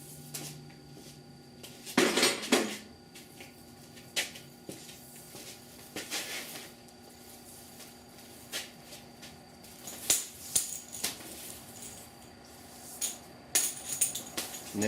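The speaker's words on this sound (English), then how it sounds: "I'm going to pull that clamp off" Metallic clanks and rattles as a clamp is pulled off the rusted core support of a 1969 Chevrolet C10 truck. Scattered sharp hits and scrapes come at irregular intervals in a quiet shop.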